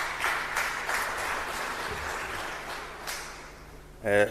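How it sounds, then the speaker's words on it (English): An audience at a television studio handover ceremony claps in a steady, moderately quiet round of applause that fades toward the end before a voice speaks. "Can we clap hands for them, please?"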